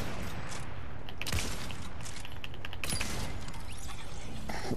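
Video game gunfire crackles in rapid bursts and scattered single shots, with a few sharper cracks standing out from a dense, noisy battle background.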